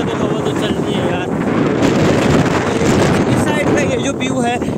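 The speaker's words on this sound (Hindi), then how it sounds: "अब सफ़र कर रहे हैं बाइक का, तो हवा तो चलनी है यार।" Strong wind buffets the microphone on a night motorbike ride, a loud, continuous roaring rush with gusty surges, while a voice speaks faintly underneath.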